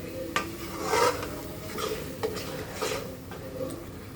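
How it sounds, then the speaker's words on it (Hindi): A spoon stirs potato paneer curry in a pan, giving repeated scraping, rasping strokes against the metal at an uneven rhythm, close and fairly soft. "चलाते रहना है आपको 1-1 मिनट में"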